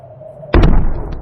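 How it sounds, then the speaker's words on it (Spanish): A heavy stone slab breaks loose with one sudden dull, booming thud that rings out and decays over a second, following a faint low hum. "Con un golpe seco, la pesada losa se desprende de sus esquinas"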